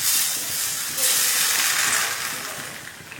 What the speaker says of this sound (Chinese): 用花椒油泼一下